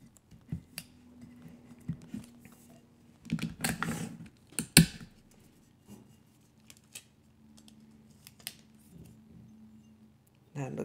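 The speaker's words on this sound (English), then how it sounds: "And I'm going to tape the second side." Sticky tape being torn and pressed down to hold a sublimation template on a mug, with quiet scattered crinkles and a few short louder rips and rustles over a faint background hum.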